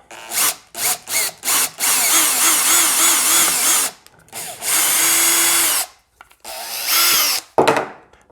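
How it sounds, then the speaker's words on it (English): A power drill boring through the plastic of a skate, several quick bursts followed by longer whining runs with pitch dips as it bites, loud and close. "So when you drill this out, you're gonna get a bunch of plastic"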